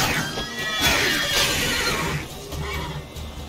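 A horse whinnies loudly and shrilly in The Witcher 3: Wild Hunt, its call wavering and fading, with faint hoof clops and background noise; no talking.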